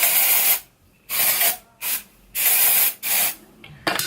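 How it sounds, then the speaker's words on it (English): Dry shampoo sprayed onto hair in four bursts of close, loud aerosol hiss with short pauses between them, then the start of a fifth spray. "So I'm gonna put some dry shampoo."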